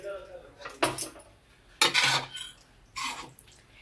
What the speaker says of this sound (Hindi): अब हम इसमें डालेंगे बारीक कटी हुई हरी धनिया। और इसे अच्छे से मिक्स कर लेंगे।